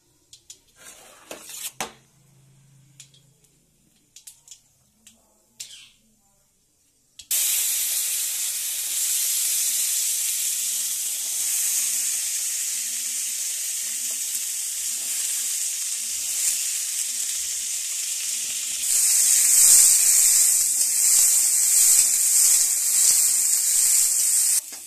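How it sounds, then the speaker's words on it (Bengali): Loud, steady sizzling of raw green peas frying in hot oil with five-spice tempering, a continuous bright hiss after a few seconds of quiet clatter, growing slightly louder near the end. "ফোড়ন দিয়ে কাঁচা মটরটি ভেজে নেব।"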